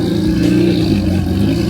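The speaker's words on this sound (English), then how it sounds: "now look at this, we got a Bugatti EB110 being driven here" Bugatti EB110 driven at a car meet, a loud, close engine holding a steady low rumble with a slight mechanical clatter for a short moment, no voices over it.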